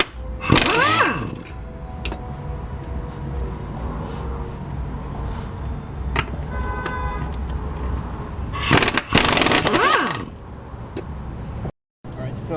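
An air impact wrench rattles off 14mm bolts while a Nissan 300ZX VG30 engine is being pulled, with two loud close bursts, one near the start and one later, and someone talking in between.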